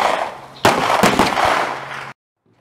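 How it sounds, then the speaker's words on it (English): A Glock 43 fires a single 9mm +P Buffalo Bore 147-grain hard cast lead round, one loud sharp shot that rings out with echoing noise for over a second before cutting off. "One 9mm plus B outdoorsman 147 grain hard cast lead. And we're going to shoot it out of Glock 43."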